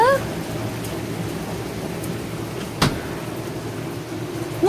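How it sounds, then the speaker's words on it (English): Steady rain falls outdoors as a dense, even hiss that fills the whole clip, with one sharp tap partway through and a brief voice at the start and end. "That's rain."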